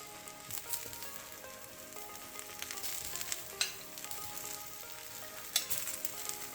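Green onions stir-fry in a pan for a stir fry, a close, steady sizzle with a crackle and a few sharp clinks and scrapes of a utensil against the pan.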